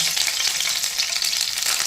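Curry leaves crackle and sizzle in hot oil for a tempering, a dense, steady hiss of frying close up, continuous and alone with no voices.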